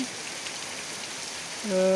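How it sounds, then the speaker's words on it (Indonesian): Steady rain falls in a broad, even hiss throughout, with a brief tonal hum appearing near the end; no talking. "itu musik dari suara hujan loh"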